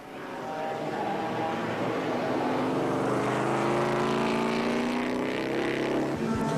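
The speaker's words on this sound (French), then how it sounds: "L'Elva se retrouve 4e en embuscade devant la TVR d'Eric Van de Viver." Race cars, an Elva and a TVR, roar past together in a 1995 historic circuit race, their engines a loud sustained drone with rising and falling pitch that swells as they pass close.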